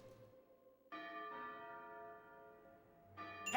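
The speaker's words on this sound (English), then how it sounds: "Bell has rung." In a haunted house in PokéPark Wii, a deep bell rings out with a resonant, sustained tone that lingers for a couple of seconds before another strike begins, heard alone against a quiet backdrop.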